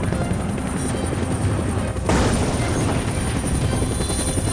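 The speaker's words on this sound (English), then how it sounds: "The attack blows up the helicopter." A Russian military helicopter is struck and goes down: a loud, continuous rotor and engine roar that shifts abruptly partway through, as if hit, then keeps droning heavily.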